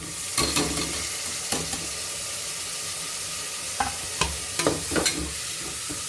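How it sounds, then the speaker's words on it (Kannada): Tomatoes frying in a pan with turmeric for a homemade Mallika biryani, giving a loud, continuous hiss of sizzling oil broken by a few sharp scrapes and knocks of a stirring spoon, with no talking. "ಈಗ ಟೊಮೆಟೊ ಸೇರಿಸ್ತಾ ಇದ್ದೀನಿ"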